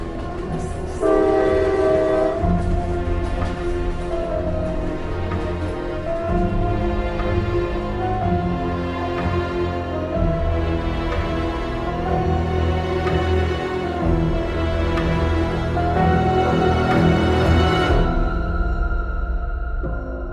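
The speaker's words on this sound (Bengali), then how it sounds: "একটু পরে ট্রেনের হুইসেল শোনা গেল। ট্রেন ঢুকলো ঝমঝম শব্দ করে।" A loud train horn sounds in long, sustained blasts over the heavy rumbling clatter of a train rolling in.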